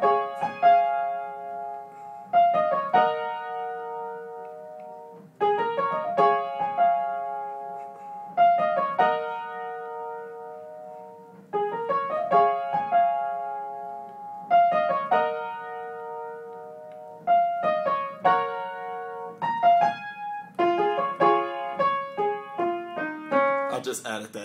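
Solo piano playing the intro of a wedding song, with repeated chord phrases struck at a steady, unhurried pace and each one decaying before the next, clear and close with no talking over it.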